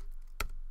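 A single sharp keystroke burst on a computer keyboard, entering dimensions in Adobe Illustrator, brief and close, with quiet room tone around it.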